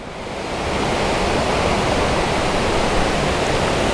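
A waterfall near Doi Inthanon in Chiang Mai pours steadily ahead, with water rushing past on both sides, a dense, continuous roar that rises slightly at the start and holds loud and close throughout.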